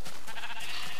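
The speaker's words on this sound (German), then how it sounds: "Schafe." A Minecraft sheep bleats once, loud and close, a single wavering nasal cry that fills the whole moment.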